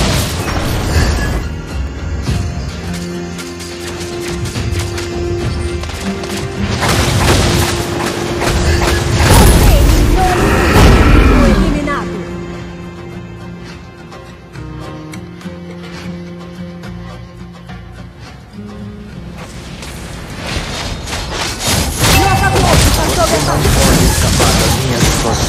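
Tower destruction in the Mobile Legends: Bang Bang game, a burst of loud booming explosions mid-clip over dense game music and effects, with an announcer-style voice speaking around it.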